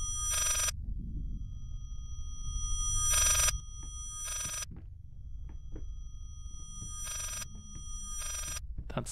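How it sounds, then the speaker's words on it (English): A telephone rings in the horror video game Layers of Fear, sounding in short bursts of bright ringing separated by gaps over a low ambient rumble, with no talking. "That's the phone."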